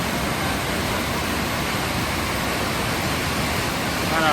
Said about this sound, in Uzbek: tushayotgan suvni qarang, qanaqa haybat bilan tushyapti.